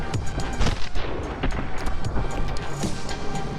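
Gunfire in the video game My Friend Pedro, a dense run of sharp repeated shots and booms with no pause, loud and busy throughout.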